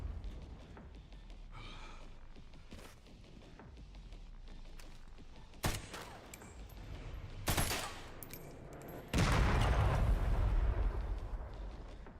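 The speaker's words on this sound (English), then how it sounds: "A mortar? Oh, this is gonna be interesting." Mortar and gunfire barrage in the video game Resident Evil Requiem, distant rumbling fire with sharp blasts and a loud, heavy explosion near the end.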